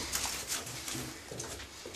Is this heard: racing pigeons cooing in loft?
yes